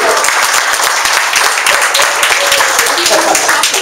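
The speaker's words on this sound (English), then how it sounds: "Give Margaret a big round of applause." Loud, sustained audience applause at a holiday networking event, many people clapping densely and continuously with a few faint voices mixed into the crowd.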